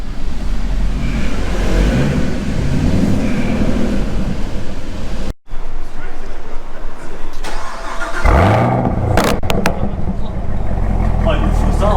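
Chevrolet Camaro ZL1 engine heard loud and close, a deep rumbling drone that cuts out briefly and then climbs into a rising rev, while people talk over it.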